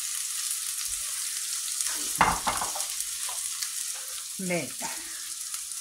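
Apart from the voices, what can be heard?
onion, garlic and peppers frying in hot oil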